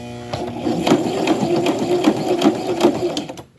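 A sewing machine backstitches fabric for a doll shirt, making a close, rhythmic mechanical chatter with regular needle strokes that stops abruptly at the end.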